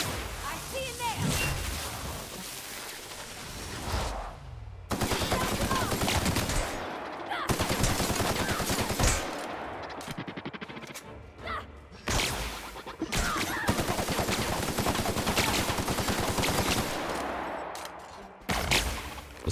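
Gunfire from The Outer Worlds, Peril on Gorgon expansion, comes in loud rapid bursts of automatic fire and single shots, broken by short pauses, with a player's voice talking faintly now and then.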